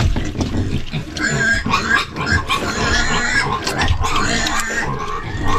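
Backyard pigs feeding up close, with loud grunts, snorts and squeals overlapping in irregular bursts over a constant munching clatter, and a voice briefly heard among them.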